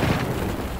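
A grenade detonates in the online shooter Battlefield 1, a loud, dense blast filling the whole moment with a sustained rumbling roar.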